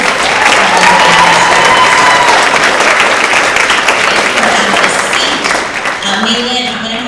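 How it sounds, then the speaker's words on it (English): A crowd of students and families at a grades six to eight school award assembly breaks into sustained, dense applause with some cheering, loud and continuous for several seconds, with voices mixed in underneath. "Let's give another round of applause."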